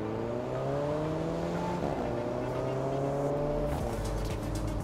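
A car driven in the racing video game Test Drive Solar Crown, overtaking other cars, with a steady engine drone that rises and shifts in pitch as it changes gear. It plays loud and continuous the whole time.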